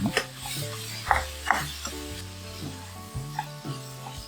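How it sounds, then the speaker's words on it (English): Ground beef being mixed with seasoning in a pan, with a few soft spoon scrapes and light sizzling, faint beneath louder background music. "Mix all the seasoning with your beef."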